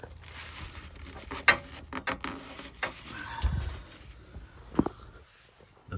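A ratchet turns the transmission drain bolt on a 2016 Dodge Ram 1500 with a 5.7L Hemi, making faint, irregular mechanical clicks and light taps, with brief louder knocks in the middle, and no voices.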